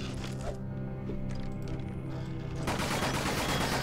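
Submachine gun fire in Nightmare House 2, a Half-Life 2 mod, comes as a dense, continuous rattle of rapid shots that swells louder toward the end against a busy game soundscape, with no talking.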